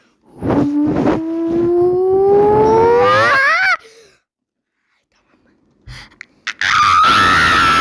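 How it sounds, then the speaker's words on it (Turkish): A person shouts and screams loudly, one long rising, strained cry lasting several seconds, preceded by a short yell. After a pause comes a brief noise, then another sustained loud shout. "Çok bağırdın."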